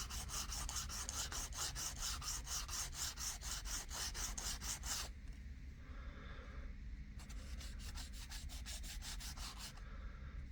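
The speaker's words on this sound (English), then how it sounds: "All I do is just sand them down just a little bit." Goose feathers for wood arrows are sanded with quick, rhythmic rasping strokes, a run of rapid scrapes, a short pause, then another burst of strokes, close and clear.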